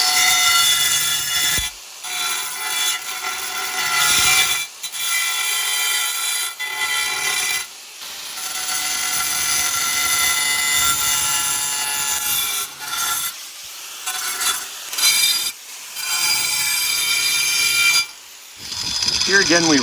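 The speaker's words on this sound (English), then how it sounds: "I'm gonna shape it a little bit with the angle grinder, almost" Angle grinder shaping a round hole in ceramic tile, heard in loud bursts of high-pitched whining and grinding, cut by several brief pauses, over roughly twenty seconds.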